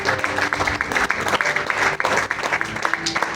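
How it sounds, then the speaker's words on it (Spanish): A church congregation claps for the Lord in lively, uneven bursts, with individual hand claps standing out within the crowd's applause and some faint voices mixed in. "Den un aplauso al Señor."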